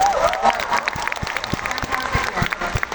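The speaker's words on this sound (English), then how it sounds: "I think that deserves a round of applause" Audience applause at a fan meet in Manila fills the clip, a dense steady crowd clapping held at a fairly loud level, with a few faint voices mixed in under the sustained clatter.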